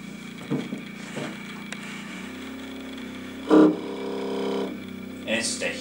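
A shaker platform under construction runs with a steady, lawnmower-like engine drone that swells louder for about a second midway. Faint voices and brief knocks are heard around it.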